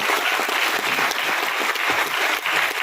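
An audience at a network marketing meeting claps loudly for their upline, a dense, sustained burst of applause filling the room for the whole stretch, with no speech over it.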